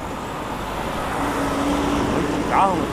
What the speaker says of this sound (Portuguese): Quando vem carro atrás, eu não gosto.